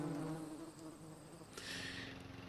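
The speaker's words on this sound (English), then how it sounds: "People are noticing the yellow jacket wasps." Yellow jacket wasps buzz steadily and close by outdoors in Iowa, a continuous hum of several insects with shifting pitch, quiet overall and with no talk.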